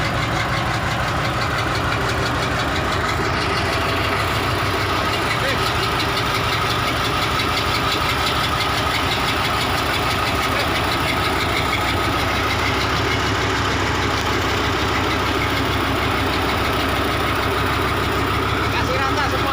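A heavy logging truck labors on a muddy, rain-soaked forest track, its engine droning loud and steady with a rough knocking edge throughout, and voices speak now and then over the noise.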